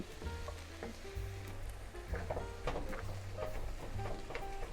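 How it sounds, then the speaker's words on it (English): Vegetables sizzle and crackle in a hot pan while being sautéed for French-style beef stew, a steady close frying hiss with occasional stirring scrapes and no talking. "the juices that are releasing from the vegetables as I saute them"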